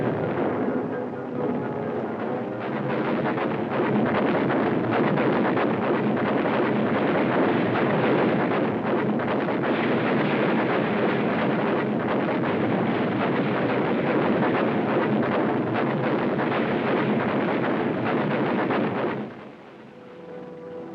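A destroyer's naval guns pound beach targets in a shore bombardment at point-blank range, heard as a continuous, dense roar of rumbling blasts. The sustained barrage stays loud for about nineteen seconds, then falls away abruptly to quieter background.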